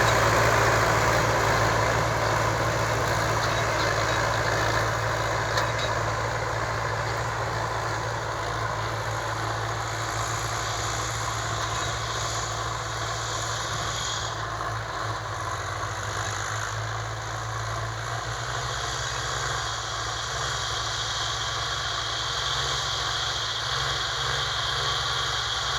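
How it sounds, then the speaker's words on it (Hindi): Ford 4560 tractor diesel engine running steadily at idle, a constant close mechanical drone with a low rumble throughout and no speech. "बहुत ही प्यारा ट्रैक्टर।"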